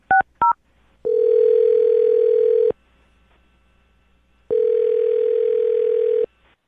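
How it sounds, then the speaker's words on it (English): Two short touch-tone keypresses are followed by two long, steady phone ringback tones separated by a pause. They come through loud and clear on an office call placed to a coworker named Mike. "I'm dialing his phone number right now"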